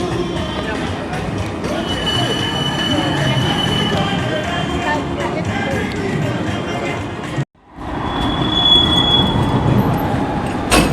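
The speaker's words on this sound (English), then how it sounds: "So it's the second tram I've just got." A tram passes close by on a street in Croydon, rumbling loudly with squealing wheels and clattering rails. The sound cuts out for an instant midway, then resumes just as loud.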